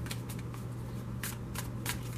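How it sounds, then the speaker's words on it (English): A tarot card deck is shuffled close up and quietly, with repeated soft riffling bursts over a steady low hum and no talking. "I have pre-shuffled this deck just a little bit, but I feel like I need to shuffle a little bit more"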